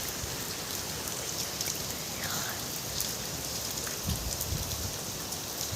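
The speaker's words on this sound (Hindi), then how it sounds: "बारिश का आनंद उठाओ, पानी की आवाज़ का आनंद उठाओ।" Steady rain falling outdoors, a dense, even hiss of drops spread across the whole clip with occasional heavier patters, loud and continuous with no voices over it.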